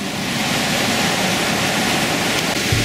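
Loud, steady roar of class 5 whitewater rapids on the Upper Gauley River, a dense, unbroken rush of churning water that fills the whole clip with no voices.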